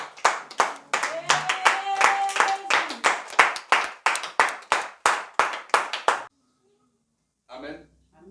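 Rhythmic hand clapping from a church congregation praising during a service in Côte d'Ivoire, steady and loud for about six seconds with singing voices underneath, then stopping before a brief burst of voices.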